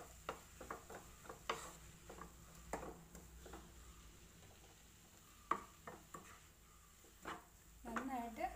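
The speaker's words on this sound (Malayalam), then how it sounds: "ഇഞ്ചിയുടെയും പച്ചമുളകിൻ്റെ ഒക്കെ പച്ച സ്മെല്ല് മാറുന്ന വരെ നമുക്ക് നന്നായിട്ട് വഴറ്റി കൊടുക്കണം" Ginger garlic paste and green chillies are sautéed in a pan while a spoon scrapes and taps in irregular strokes, with a soft background hiss and a louder rustle of stirring near the end.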